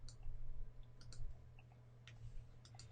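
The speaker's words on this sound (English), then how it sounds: "I'm clicking in the wrong place" A computer mouse clicks in scattered, light, close taps, single and doubled, over a faint steady room hum with no talking.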